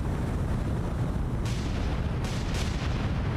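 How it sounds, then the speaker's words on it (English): Deep, rumbling explosions boom from a sinking ship in the naval combat game War on the Sea, a dense low roar with a few sharper bursts cutting through, loud and without voices. "We got some explosions."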